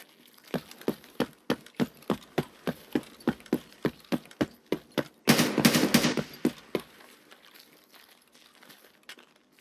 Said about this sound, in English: A lot of shooting over there.